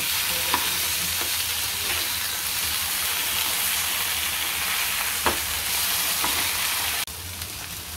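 Rawas fish fries in a pan with a steady, close, crackling sizzle and occasional small pops, ending in a slight drop in level. No one speaks.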